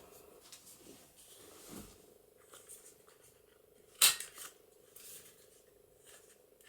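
A single sharp snip from rounding the corner of heavy 300 GSM coffee-dyed cardstock, close and brief amid quiet room noise with faint handling rustles.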